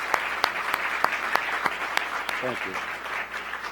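Audience applause fills a closing session of a Federal Reserve presidents' community forum, steady clapping with sharp individual claps standing out, and someone briefly speaks over it near the end.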